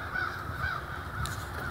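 A flock of crows calls from trees, with a few hoarse caws standing out over a steady outdoor rumble, fairly distant and moderately loud.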